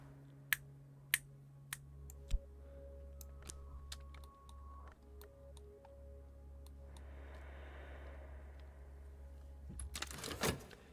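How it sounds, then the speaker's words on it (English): Finger snaps within a dark Cultist Simulator game soundscape: a few sharp, close clicks, the loudest near the start, spaced over a sustained low drone, followed by a rising hiss and a final burst. "I find myself snapping my fingers to its rhythm."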